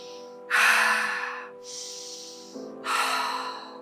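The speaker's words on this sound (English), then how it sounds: "Releasing the breath, eyes still closed." Deep breathwork breaths during a guided conscious connected breathing session: three strong, breathy inhales and exhales in slow succession, close and clear over a soft sustained musical drone, with no talking.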